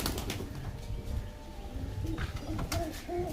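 A Benarasi pigeon coos in low, throaty, repeated calls close by, with other birds chirping faintly and a brief flutter of wings in the background.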